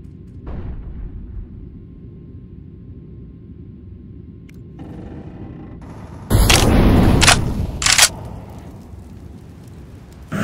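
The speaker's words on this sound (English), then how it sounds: "I'm throwing a flashbang." A flashbang grenade thrown and bursting in the CS:GO video game, a loud broadband bang after a low rumbling game backdrop, followed by a second short sharp burst.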